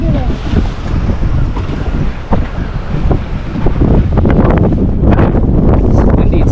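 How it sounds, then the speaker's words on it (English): Strong wind at sea off South Padre, Texas, on a fishing outing buffets the microphone in a steady, loud roar over the whole span, with water and waves churning beneath and occasional knocks on the boat. "It's windy today, Elon."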